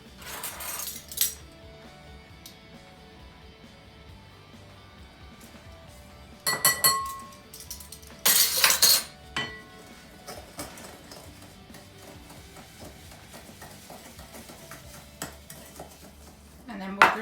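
Sugar, egg yolks and vanilla extract being mixed in a bowl for custard: scattered clinks of utensil against bowl, with louder clattering bursts near the start and again in the middle, close and fairly quiet.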